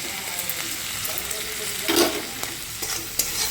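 Fried fish in a turmeric-spiced curry is stirred in a hot pan, steady sizzling broken by a few sharper spoon scrapes and knocks up close, with no one talking.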